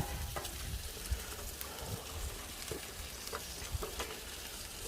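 Baby back ribs sizzle softly on a Blackstone griddle set to low heat, a faint, steady crackle with small pops throughout and no talking.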